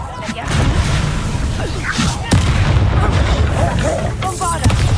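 Loud booming blasts of the Bombarda explosion spell in Hogwarts Legacy, a few heavy impacts over dense battle noise with a voice shouting over it.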